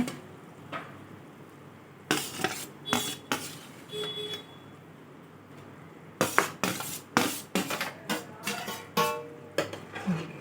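Prawns going into boiling masala in a pot for prawn biryani: scattered metallic clinks and clatters of a utensil against the pot, in two busy bursts over a faint low bubbling background, with no voices.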